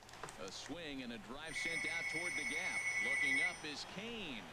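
A house telephone rings in steady electronic bursts for about two seconds, heard under continuous baseball video game commentary.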